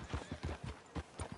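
Horse hooves clip-clop in a steady walking rhythm in the video game Red Dead Redemption 2, close and moderately loud, with no voices.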